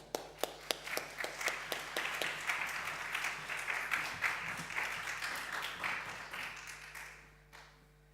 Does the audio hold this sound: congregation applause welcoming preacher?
yes